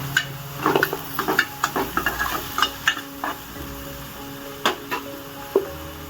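Onions and chillies fry in a pan with a steady close sizzle, broken by repeated spatula stirring scrapes and clinks.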